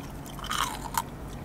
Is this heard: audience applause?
no